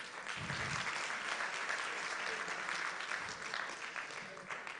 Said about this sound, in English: A huge, huge round of applause for Mumbai.